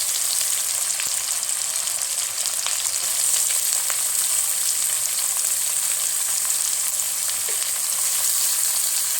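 Sliced onions hitting hot oil in a pan for a crab roast, producing a continuous bright, loud sizzle with faint stirring scrapes throughout, no voices.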